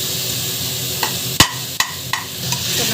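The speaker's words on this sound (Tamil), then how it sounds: "நல்லா வதக்கிக்கோங்க." Tomatoes sauté in a pan for biryani under a steady sizzle, with a spatula scraping and clicking against the pan several times at irregular intervals.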